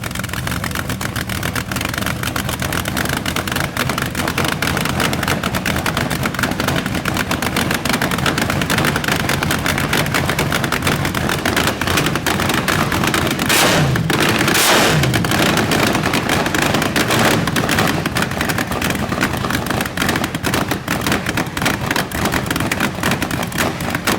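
A nitromethane-fuelled slingshot dragster engine cackles at idle, a loud, relentless crackling roar that stays close and steady, with a brief sharper burst partway through.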